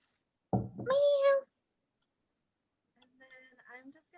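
A domestic cat gives a single clear meow up close, preceded by a brief knock, then soft faint chirping sounds follow after a pause of near silence.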